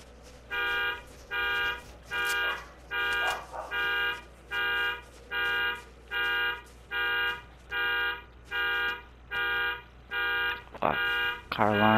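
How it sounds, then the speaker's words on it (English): A car alarm in the Fortnite video game blares in a steady pulsing pattern of about a dozen evenly spaced loud tones, with game noise and a rising sound near the end. "Car alarm."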